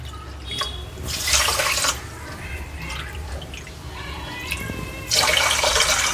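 Water runs from a tap in bursts, splashing into a pan for sugar syrup, with quieter sink sounds and faint clatter between the louder pours.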